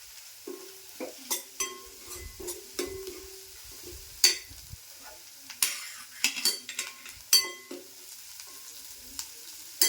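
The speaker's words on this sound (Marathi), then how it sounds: "कांदा पर्यंत मऊ झाला आहे आता मिरच्या टाकून घेते" Green chillies frying with softened onions in a pan for a spicy tomato chutney: sharp spatula scrapes and clinks repeat irregularly over a low, steady sizzle, close and fairly loud, with no talking.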